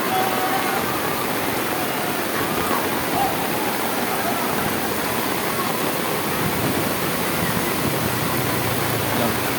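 Heavy typhoon rain from Typhoon Carina pours down steadily by the Tullahan River, a dense, loud hiss that never lets up.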